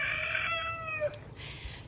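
A rooster named Laddie crows once in a clear, close call with a rising then drawn-out harmonic cry lasting about a second, followed by quieter farmyard background, no talking.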